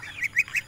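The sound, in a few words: ducks quacking in farm pen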